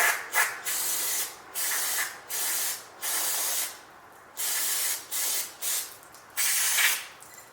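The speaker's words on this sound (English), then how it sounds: "You go through brake clean so fast with" Brake cleaner sprayed from an aerosol can onto a carburetor, a series of sharp hissing bursts of varied length with brief gaps between, loud and close, no talk.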